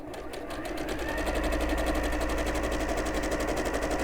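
A domestic sewing machine runs at a steady pace, its rapid rhythmic needle clatter close and continuous, picking up speed after a brief slower start.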